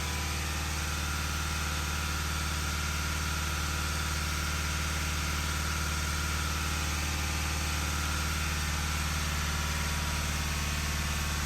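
A Mazda 3 engine idling in a workshop while a brake fault is being diagnosed, heard as a steady low hum with a constant drone, moderately quiet and unchanging, with no talking.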